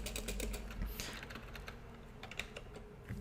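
Rapid, steady typing on a computer keyboard while working on a clock cooldown effect in Unreal Engine 4, with close clicking keystrokes running throughout alongside a low background hum.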